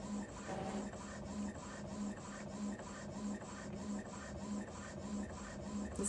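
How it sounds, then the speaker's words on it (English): An Epson EcoTank 2720 inkjet printer running a print job, a steady close mechanical whirr with a regular rhythmic pulse of the print head sweeping back and forth, with no voices. "This printer prints pretty ziggly."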